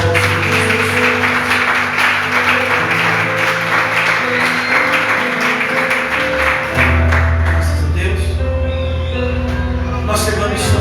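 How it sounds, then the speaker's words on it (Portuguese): A church congregation claps together in loud, sustained applause during a worship service, with music playing underneath and shifting partway through. "Tem mais uma linda salva de palmas."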